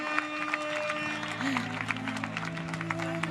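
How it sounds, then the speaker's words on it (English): Audience applause for the winners at the final of a FIP Platinum padel tournament in Albania on the central court, a steady bed of crowd clapping throughout with tonal music or hum underneath. "And a big applause for the winners, Marina Guinar and Vero Virceda."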